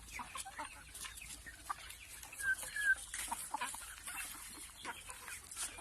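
Three-month-old free-range chickens cluck softly and intermittently in a farm pen, low and scattered, with a couple of brief louder calls amid quiet rustling.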